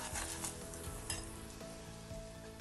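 Lentils sizzle in hot oil for a star fruit chutney, a continuous close crackling fry with faint stirring scrapes, steady and fairly quiet, no voices.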